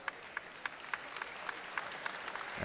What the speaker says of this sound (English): And he'll get an applause.